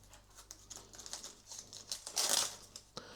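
Onion skins are peeled by hand in a kitchen, close and quiet dry crinkling and papery tearing in short irregular bursts, rising to a louder rustle near the end.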